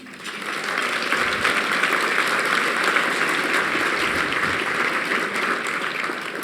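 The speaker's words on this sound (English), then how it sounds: "Please give them an applause." A large audience at an annual dinner gives sustained applause, a dense, steady wash of clapping that holds for several seconds without any speech.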